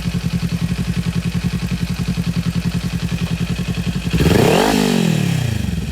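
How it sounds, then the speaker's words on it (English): A 2021 Kawasaki Ninja 400 fitted with an aftermarket Akrapovic exhaust idles loudly up close with a rapid, even throbbing pulse, then revs sharply upward and drops back to a lumpy idle. "this is the sound of the Kawasaki Ninja 400"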